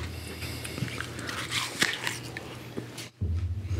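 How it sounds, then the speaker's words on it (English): Close-miked chewing of food by people, wet bites and mastication crackles running steadily for a few seconds before a brief drop and a low rhythmic pulsing at the end. "People are going to hate this because we're just chewing into a microphone."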